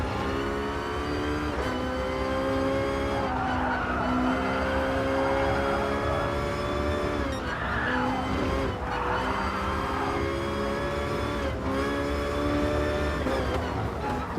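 Fittipaldi EF7 Vision Gran Turismo race car in Gran Turismo Sport, 598 brake horsepower, driving hard: a loud, sustained engine whine that rises and falls through repeated gear changes and revs, with some tyre noise and no talk.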